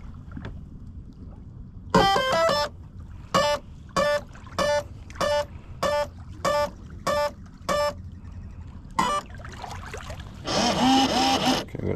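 A Proboat Blackjack 42 RC boat powering up gives a series of about ten short, evenly spaced electronic beeps in a quiet outdoor setting, then a brief louder burst of noise at the end.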